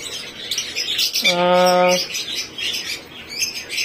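Birds calling in an aviary of breeder birds, with a clear harmonic call rising out of the constant background chatter of many birds.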